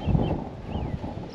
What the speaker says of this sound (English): standing there looking at a windy cornfield somewhere in Nebraska